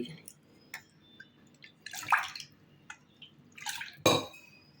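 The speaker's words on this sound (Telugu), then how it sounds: "వాష్ చేసుకున్న పెసరపప్పులోకి మూడు కప్పుల నీళ్ళు తీసుకోవాలి" Three cups of water poured onto half a cup of washed moong dal in a cooker, heard as a few short splashing pours mixed with light clinks of a vessel and utensils, quiet and close.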